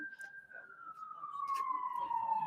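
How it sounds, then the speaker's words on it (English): An emergency vehicle siren wails in the distance, a single long tone sliding slowly downward, steady behind low background noise and faint voices. "Lots of siren action in the background."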